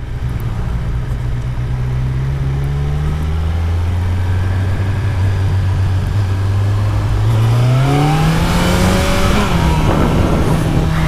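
Kawasaki Z900 motorcycle from 2017 on a test ride, its engine droning loud and close, then rising sharply in pitch as it accelerates hard through the gears, with wind noise building.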